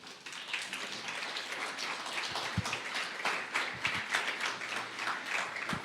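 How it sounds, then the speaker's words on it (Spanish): Congregation applause in a church service, a steady wash of many hands clapping at moderate distance throughout, with a few sharper individual claps standing out. "Dale un fuerte aplauso a Dios"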